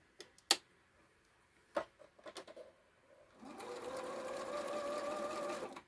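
A sewing machine runs steadily for the last two and a half seconds while set to zigzag stitching, after a few scattered clicks and knocks from handling the fabric and machine.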